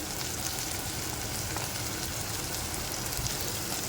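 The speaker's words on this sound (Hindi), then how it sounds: "और अब इसके अंदर हम डाल देंगे भिंडी।" Bhindi (okra) is added to a hot pan and fries with a steady crackling sizzle, fairly soft and continuous, with no voices.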